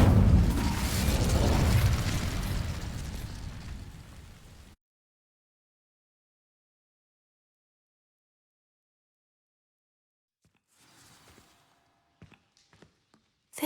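An Incendio fire spell in a Hogwarts video game bursts loudly and roars as dry vines burn for several seconds, then cuts to silence before faint scattered rustles and clicks return.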